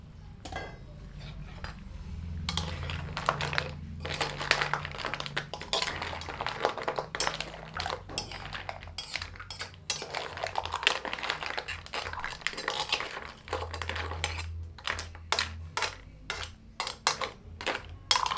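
Mixed seafood being stirred in a pan with a utensil: a busy run of metallic scrapes, clinks and taps in irregular rhythm, close and fairly loud, with a faint low hum underneath.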